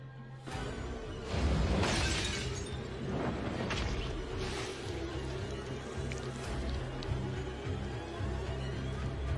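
Glass shatters and breaks apart loudly. A sharp crash comes early, then scattered fragments clink and tinkle for several seconds over a low background hum.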